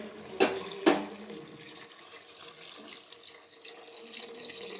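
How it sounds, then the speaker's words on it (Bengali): Water is poured into a cooking pot of simmering curry, giving a soft, steady liquid rush after two sharp splashes at the start, fairly quiet with no talk. "এবার জল ঢেলে দিচ্ছি"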